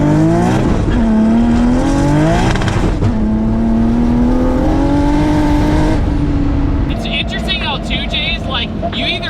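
An 800-horsepower Nissan 240SX S14 revs hard through wheelspin, its engine note climbing and falling in loud sweeping surges over a steady roar, with sharper high bursts near the end, all close by.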